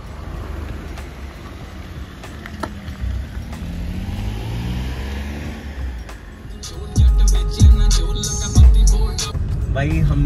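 A modified Maruti 800 drives off on a road trip, its small engine rumbling low and steady, with heavier thumps and clatter from the road toward the end.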